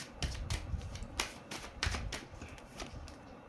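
Tarot cards being shuffled and drawn, a quick series of crisp papery slaps and flicks in an uneven rhythm, close and fairly quiet, with no talking.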